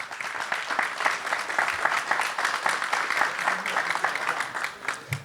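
An audience at a naval propulsion conference claps, dense continuous applause from a room full of people, fairly close and steady for several seconds with a faint voice underneath.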